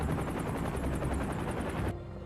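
Rapid rhythmic whop of helicopter rotor blades, loud and close, with a dense engine roar that cuts off abruptly near the end.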